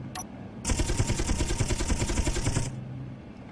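A gunship's machine gun fires in Space Engineers, a rapid rattling burst of about two seconds with evenly spaced shots, preceded and followed by a low hum.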